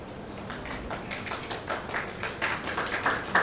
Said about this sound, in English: You are clapping for yourself.